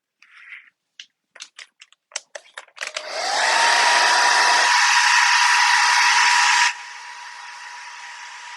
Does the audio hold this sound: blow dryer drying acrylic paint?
yes